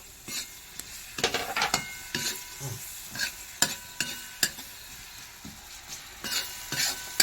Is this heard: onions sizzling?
yes